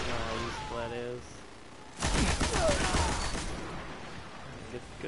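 A short volley of rapid gunshots from a Destiny PvP match, loud for about a second and a half amid game effects, with a voice speaking before the shots.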